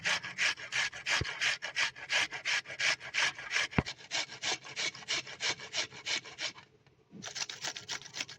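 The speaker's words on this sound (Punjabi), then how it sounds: "ਪਿਆਜ਼ ਨੂੰ ਆਪਾਂ ਕੱਦੂਕਸ਼ ਕਰ ਲੈਨੇ ਆ" Onion rubbed steadily against a grater for beetroot onion chutney, a fast run of rasping strokes, close and loud, with a brief pause near the end before the grating resumes.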